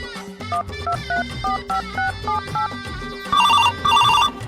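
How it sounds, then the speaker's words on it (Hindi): Music plays throughout while a bright electronic ringtone trills in two short repeated bursts near the end, loud over the backing track. "मामा मामी के फोन आवा थी।"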